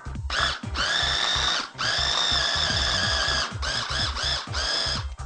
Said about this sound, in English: Now we combine all of our ingredients and we just nicely pulse it in our food processor.